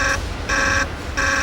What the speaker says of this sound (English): The water shortage continues to set off alarms